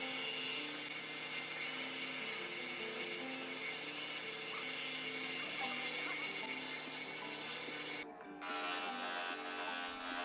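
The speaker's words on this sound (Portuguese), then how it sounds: "como eu tenho esse cilindro aí, coloco uma lixa número 40, isso facilita demais na hora de fazer esse tipo de trabalho" A sanding drum fitted with 40-grit sandpaper shapes a homemade wooden mallet, giving a loud continuous abrasive whir with a steady motor hum and one brief dip near the end.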